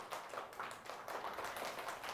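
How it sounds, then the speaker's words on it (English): A class claps for a student being rewarded, a soft, fairly quiet patter of several hands clapping in uneven bursts throughout, with no voices on top. "Please clap for her."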